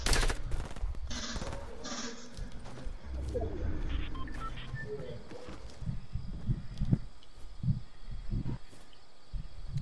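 Rapid minigun fire in the video game Fortnite, a dense rattling burst running under a busy game mix with footsteps and a voice talking over it.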